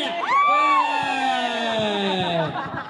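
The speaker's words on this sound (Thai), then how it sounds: "แม่ขนาดไม่ตรงกรอบเสียงเชียร์ยังดังขนาดนี้ถ้าตรงกรอบจะขนาดไหนนะเนี่ย" Loud crowd cheering and children's shouts fill a youth under-11 football match between Arsaipa and Swatcat, sustained and close with rising whoops throughout.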